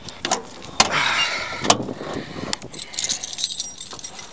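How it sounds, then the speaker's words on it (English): Keys jangle close by at the trunk of a 1977 Pontiac Trans Am, a run of bright metallic clinks and rattles lasting several seconds with a few sharper knocks. "Let me get my keys out real quick."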